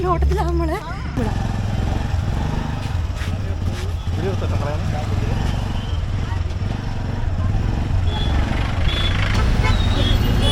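A motorcycle engine runs with a low, steady rumble throughout, a voice talking over it and traffic noise around.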